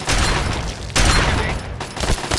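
Rapid bursts of automatic turret gunfire in Fallout 3, loud and continuous with a few heavier booming shots, the firing dropping briefly before resuming.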